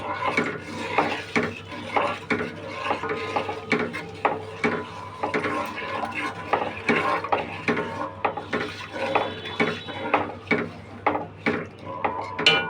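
A spoon stirring mixed vegetable labra in a cooking pot, with repeated scraping and clinking strokes against the metal in a steady rhythm, close and fairly quiet, no talking.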